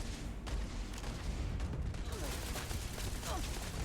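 Turret fire in the Starfield video game crackles as a quiet burst of rapid shots and thuds, heard faintly beneath a loud game soundscape.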